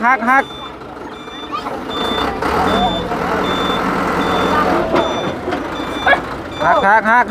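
A truck reverses with steady, evenly spaced electronic beeps over a rumbling engine, while people nearby call out and talk loudly at the start and end.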